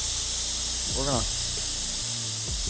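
A paint spray gun on a car job hisses steadily and loudly through the whole stretch, with a man's short remark heard briefly over the spray.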